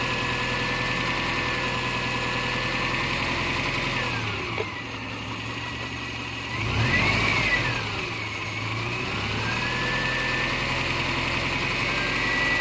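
A car engine idles steadily while its alternator charges a DIY lithium LiFePO4 battery at 30 amps. The hum is continuous and close, with a brief rise in revs midway before it settles back to idle.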